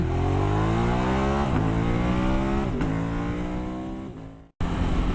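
A 2017 Ducati Monster 1200 S revs up hard from 0 to 100 km/h through rising gears, each shift dropping the pitch before it climbs again, then a sudden brief cut.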